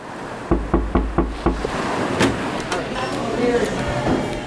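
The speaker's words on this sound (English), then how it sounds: "Go ahead, knock on a door." Five loud, evenly spaced knocks on a door, close and distinct, followed by a few lighter thumps against a steady background hum.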